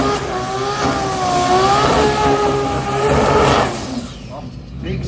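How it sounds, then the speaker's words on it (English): A drift car at a motorsport jamboree in Brisbane roars with a loud high-revving engine, its pitch rising and falling, before fading as the car moves off, with race commentary running over it. "big skid there from Cullen"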